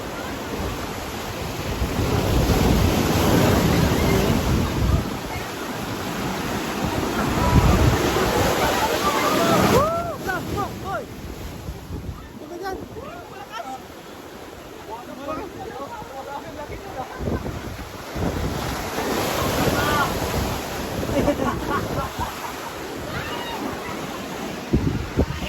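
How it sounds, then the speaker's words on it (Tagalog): Strong sea waves surge and crash against a rocky shore, loud rushing washes that swell and recede repeatedly with wind buffeting the microphone and voices talking at times. "lakas ng alon."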